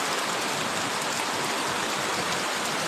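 Heavy rain falls outdoors as a dense, continuous hiss of drops on wet, muddy, flooded ground, steady and enveloping with no pauses.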